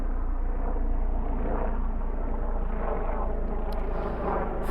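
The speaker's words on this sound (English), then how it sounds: "this extremely loud helicopter that's flying above me" A loud helicopter passes overhead, a steady broadband rotor and engine roar that fills the whole clip at constant strength, with no talking.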